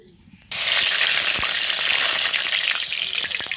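Bay leaf hits hot oil for a vegetable curry: after half a second of quiet, a sudden loud, close sizzle bursts up and holds steady for a few seconds with small crackles.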